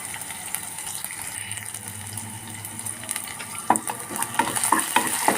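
Fenugreek seeds and shallots sizzle in hot oil for a tempering, a quiet steady crackling hiss that grows busier with sharper pops and spatters toward the end, close by with no voices.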